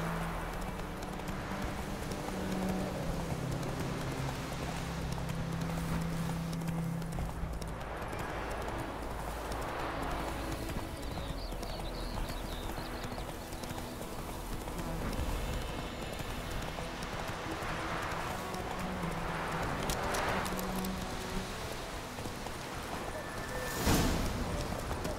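Roach, Geralt's horse in The Witcher 3, galloping with a steady, continuous clip-clop of hooves under a constant low rumble of game ambience, with a brief louder burst near the end.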